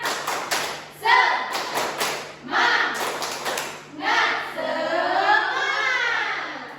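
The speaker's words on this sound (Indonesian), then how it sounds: "Oke, tepuk semangat." An elementary class does a rhythmic spirit clap, bursts of patterned clapping and thumping hands in short groups, alternating with children chanting together in unison, loud and close in a classroom.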